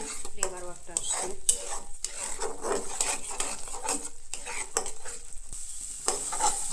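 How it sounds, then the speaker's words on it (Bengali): Kochu curry being stirred in a pan, a spoon scraping and clinking against the metal in repeated strokes over a soft sizzle, close and fairly quiet. "নাড়াচাড়া করা লাগবে"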